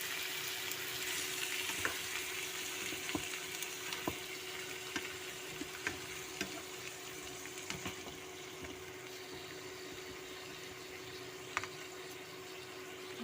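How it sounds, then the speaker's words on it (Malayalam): Mushroom thoran frying and being stirred in a pan, a low steady sizzle with soft scattered clicks of the spoon against the pan, quiet and continuous with no voices. "അതിലേക്ക് ഒരു 10 മിനിറ്റ് നന്നായിട്ട് ഇളക്കിയിട്ട് നമുക്ക് അടച്ചു വെക്കാം."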